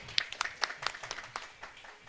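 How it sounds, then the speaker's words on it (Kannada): Audience applause at a Karnataka community association event for a website and mobile app launch, a brief scatter of fairly faint, uneven claps with no talk over it. "ಜೋರಾಗಿ ಚಪ್ಪಾಳೆ ಹೊಡಿಬೇಕು ದಯವಿಟ್ಟು ಎಲ್ಲರೂ."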